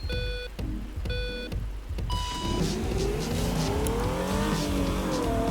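Sports car in a Minecraft-style T-Rex mod game, starting with a few repeated electronic beeps, then a steady engine roar that climbs as the car accelerates, loud and close with no talk.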